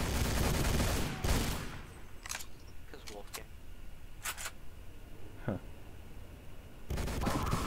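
MG42 machine gun fire in a WWII video game: a loud burst opens, then a few isolated sharp shots and clicks, before heavy firing resumes near the end. Talk is heard between the shots.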